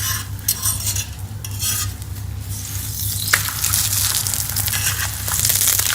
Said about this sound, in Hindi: हम इसे मीडियम आंच पे दोनों तरफ से अच्छी तरह पराठे को पका लेंगे।